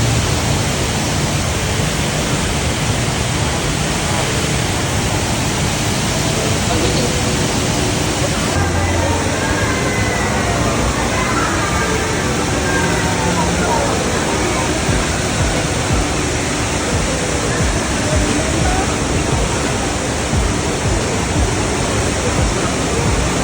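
A waterfall roars steadily, a dense loud rush of falling water with faint voices in the background partway through.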